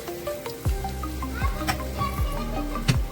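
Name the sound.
spices being stir-fried and mixed in a pan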